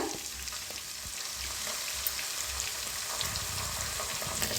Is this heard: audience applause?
no